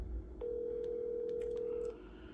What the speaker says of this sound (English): I'm gonna call them with my regular number